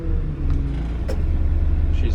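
A Bobcat L85 wheel loader's diesel engine turns over and settles into a steady, close, heavy low rumble that holds throughout.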